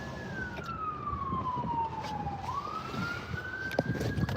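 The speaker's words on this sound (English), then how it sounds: "You see they got the sirens going on." An ambulance siren wails steadily, its pitch sliding down and then rising again as it passes, over a constant rumble of nearby traffic.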